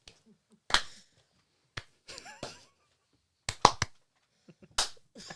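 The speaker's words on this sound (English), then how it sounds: "Slow clap." A handful of slow, sharp, isolated claps ring out at irregular intervals in near silence, each a crisp close smack with faint breathy sounds between.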